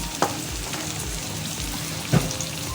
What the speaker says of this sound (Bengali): এবার এটাকে ভালো করে কষাবো, মশলাটা কষে নেব।